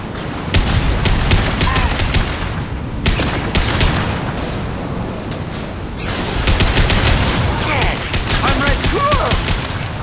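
Rapid bursts of Mattock rifle fire in a Mass Effect 2 firefight during the Lair of the Shadow Broker mission, loud repeated volleys with short pauses between them.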